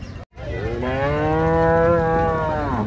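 A buffalo at a cattle market in Chichawatni gives one long, loud, close moo that rises and holds steady for over two seconds, with no talking over it.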